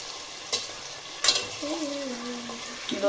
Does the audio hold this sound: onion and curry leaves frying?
yes